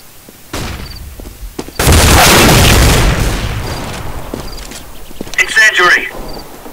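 A flashbang grenade goes off in a video game with a loud, close boom and a long, decaying roar, then scattered crackling and clicks, with a voice briefly calling out near the end.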